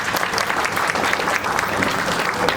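Loud, sustained applause fills a university lecture hall at an event in Delhi, India, welcoming a guest speaker; a dense, even wash of many hands clapping without a break.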